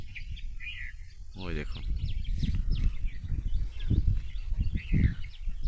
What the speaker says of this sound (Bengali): এবং পাখিদের ডাক শুনুন কত সুন্দর।